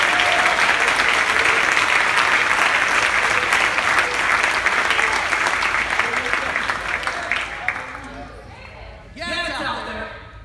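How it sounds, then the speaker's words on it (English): A church congregation at a Pentecostal service claps in praise, a loud, dense burst of applause that fades over several seconds and gives way to a speaking voice near the end. "Somebody give God a hand clap of praise right now."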